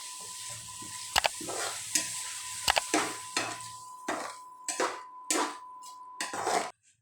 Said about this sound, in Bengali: এবার মশলাগুলো আবারও খুব ভালোভাবে কষে নিব।